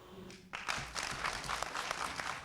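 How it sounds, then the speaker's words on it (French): An audience of agency workers breaks into applause at an evening ceremony; after a brief quiet moment, thick clapping from a large crowd starts abruptly and continues steadily. "C'est sous un tonnerre d'applaudissements"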